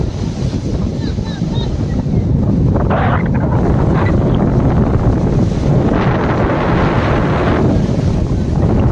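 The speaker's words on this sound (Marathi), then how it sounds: "मजबूत हवा सुटली आहे, मजबूत हवामध्ये" Strong wind at Uran beach buffets the microphone in loud, continuous roaring gusts, with the wash of surf rolling underneath throughout.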